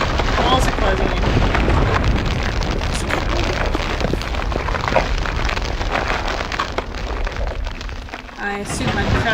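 In the video game It Moves, walls close in with a dense, continuous low rumble and crackling grind, loud and near throughout, easing briefly near the end before a final thump.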